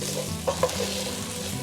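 Freekeh grains toast in a pan while a utensil stirs them, giving a steady close sizzle broken by a few scraping stir strokes, with no talk.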